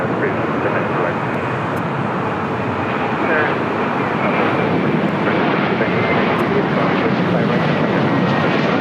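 An American Airlines Boeing 737-800 arriving from Nashville and landing at LAX, a loud continuous broadband jet roar that holds steady the whole time, close and dominant.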